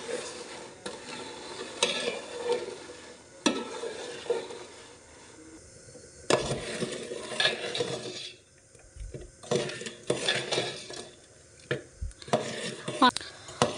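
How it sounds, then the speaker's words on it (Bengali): A cooking mixture with jaggery is stirred continuously in a pan, the spatula scraping and rasping against the metal in repeated strokes over a soft sizzle, with brief pauses between bursts of stirring. "অনবরত নাড়াচাড়া করে এটাকে রান্না করে নিচ্ছি।"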